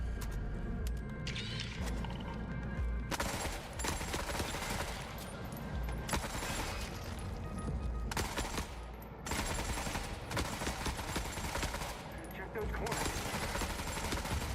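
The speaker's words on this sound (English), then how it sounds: "Yeah, that grenade launcher's gonna fucking murder us." A grenade launcher fires in the shooter game Forever Winter, with loud repeated blasts and bursts of gunfire at intervals across a noisy battle and a player talking over it.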